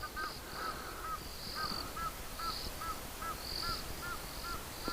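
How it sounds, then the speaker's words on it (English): Egyptian geese call at night on a safari drive, a series of short, faint honking cries repeating irregularly from a distance over quiet nocturnal background hiss. "the Egyptian geese are making a noise again"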